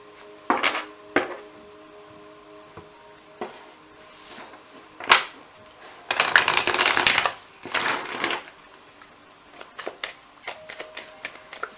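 Tarot cards drawn and shuffled for a pick-a-card reading, giving a run of brisk papery riffles and flicks with a dense burst in the middle, close and fairly quiet, with no talking.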